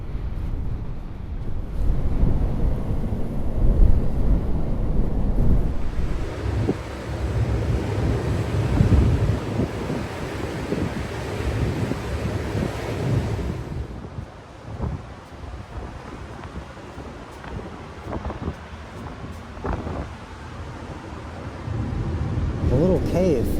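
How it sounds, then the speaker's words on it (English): Wind blows hard across an open beach, buffeting the microphone in long gusts, with surf rumbling faintly beneath and brief talk near the end. "Still just as windy."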